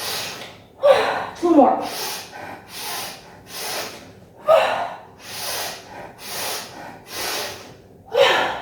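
Loud, forceful exhales repeat in a steady rhythm, about eight in all, during a core yoga breathing exercise, each a breathy rush of air, with a voice briefly speaking between them.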